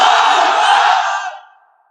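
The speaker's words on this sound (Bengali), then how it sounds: "3টা তাকবীর, আপনারা তাকবীর দেন।" A large crowd at a Bangla waz mahfil shouts takbir together in one loud, sustained unison cry that fades out after about a second and a half.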